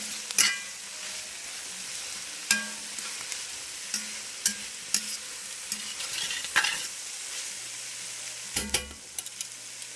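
Chicken cacciatore ingredients sizzle steadily in a hot pan while a spoon stirs and scrapes at intervals, a continuous frying hiss broken by sharp clinks and scrapes.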